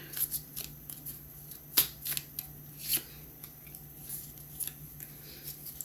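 Small cards being shuffled by hand, a series of close, crisp riffling and flicking bursts in an irregular rhythm with short pauses between, one especially sharp snap near the middle.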